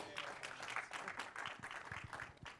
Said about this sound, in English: Can we give another round of applause for these incredible films?